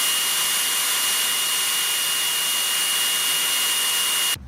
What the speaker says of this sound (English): In maximum mode, the noise level is 65 decibels.